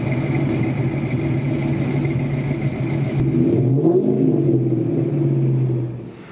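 Ford Mustang Bullitt engines idle and rumble at close range at the Woodward Dream Cruise, a deep steady drone that swells as one engine revs. The sound then settles and fades out at the end.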